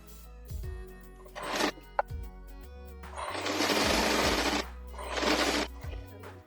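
A sewing machine stitches a half-inch folded fabric strip on a floral print long gown, whirring in several short bursts with brief pauses between runs, close and moderately loud with no talk.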